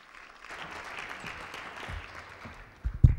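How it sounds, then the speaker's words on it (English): Audience applause at a University of Hertfordshire evening event, a broad wash of clapping that builds and holds steady, ending in a couple of louder thumps near the end. "let's give a big round of applause for her"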